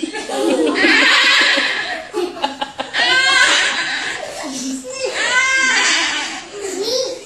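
A man imitates a horse neighing with his voice, giving several rising, wavering whinny calls amid children's laughter and chatter nearby.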